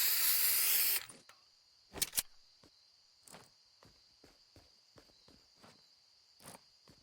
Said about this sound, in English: the spray glitch with the sniper scope is actually cool